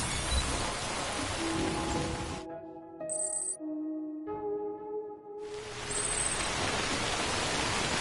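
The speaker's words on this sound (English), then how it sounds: "I don't think this rain's gonna stop." Steady hissing rain in the video game Death Stranding fills the opening seconds, breaks off into a quiet stretch with faint tonal sounds, then returns just as dense and close for the final seconds.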